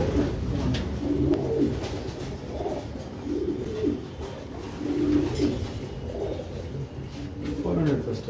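A homer racing pigeon that took first place in a 400 km club race coos repeatedly in a loft, soft rhythmic coos recurring every second or two under people talking.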